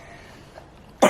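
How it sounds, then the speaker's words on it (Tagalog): A young child gives a single short cough at the very end after near silence, close and sudden. "Ayan, may ubo siya."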